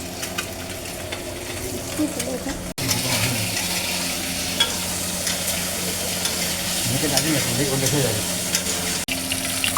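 Fish frying in hot oil for a Bengali fish curry, a continuous loud sizzle close up with stirring and occasional clatters, briefly interrupted.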